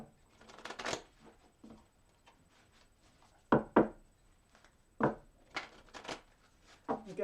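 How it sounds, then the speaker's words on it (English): Cards are riffled and shuffled nearby in several quick bursts, with crisp flutters separated by short pauses and soft handling sounds. "I have shuffled these cards really well."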